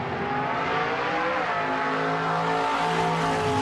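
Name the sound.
car driving past with Doppler pitch shift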